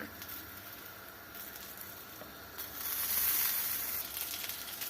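Katmer filled with minced meat and spinach sizzles and fries in a hot pan, a steady close hiss that swells louder near the end, with no talking.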